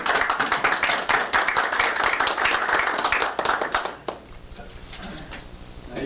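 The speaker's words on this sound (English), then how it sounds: "Now, you're supposed to keep clapping until I got to the podium." A conference audience claps steadily for about four seconds, the many hands close and lively, then the applause abruptly dies down to quiet room noise.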